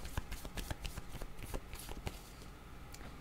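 Tarot cards being handled and shuffled up close, a quick run of soft papery riffles and flicks that keep going steadily throughout, with no voice over them.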